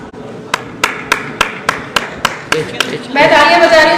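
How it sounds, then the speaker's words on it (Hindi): A host on stage at a Uttar Pradesh homeopathy award ceremony claps her hands in a steady run of about nine sharp, evenly spaced claps, with a burst of louder mixed crowd noise swelling at the end. "मैं तालियां बजा रही हूँ"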